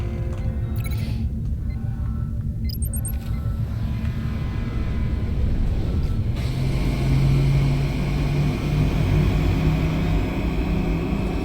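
Shuttlecraft Melville lifting off, a loud continuous engine roar and rumble that builds and shifts partway through into a heavier, steadier drone.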